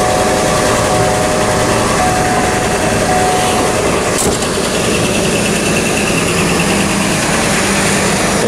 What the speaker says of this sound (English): so this is the engine.